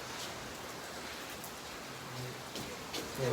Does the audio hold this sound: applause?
no